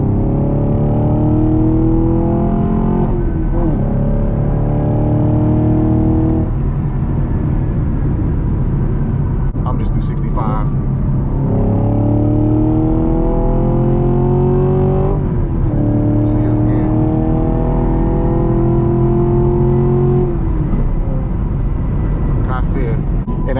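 A Camaro 2SS 1LE with a six-speed manual pulls hard in third gear from a 60 mph roll, its loud engine climbing steadily in pitch with rising and falling sweeps across the run, while a driver talks over it.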